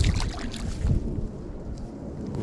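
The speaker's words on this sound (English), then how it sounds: "It is super windy" Strong wind gusting by the water at a bass fishing spot, buffeting the microphone with loud, uneven rumbling bursts that ease off toward the end.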